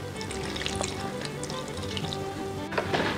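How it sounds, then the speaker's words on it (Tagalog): Water poured steadily into a bowl of puto pao batter mixture, a continuous close liquid rush and splash with a slight swell near the end, heard alone with no talk. "So, dagdagan natin ng tubig."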